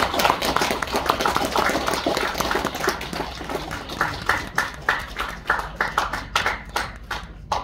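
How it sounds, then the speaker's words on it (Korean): Dense, steady applause from an audience in a hall auditorium at a book launch for a poetry collection, many hands clapping close together and continuing for several seconds before thinning into scattered claps. "많은 박수 부탁드리겠습니다"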